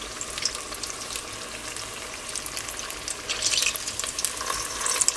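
Apple wontons fry in hot oil, producing a dense, continuous sizzle and crackle up close that grows slightly busier toward the end.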